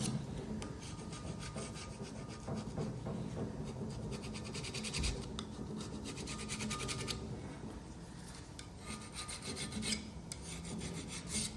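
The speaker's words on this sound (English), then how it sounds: "we'll start with a scrape back and then finish up with some Scotch-Brite" Steady rasping scrape of a tool across the cylinder-facing surface of an Allis-Chalmers B cylinder head in a workshop, continuous close scratching strokes with brief pauses, no talking.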